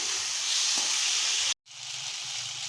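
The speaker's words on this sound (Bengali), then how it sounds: "আমরা লতিগুলো মশলার সঙ্গে অল্প একটু কষিয়ে নেব।" Boiled lotis being fried with spice masala in a pan, a steady close sizzling hiss with a brief cut partway through before the frying resumes.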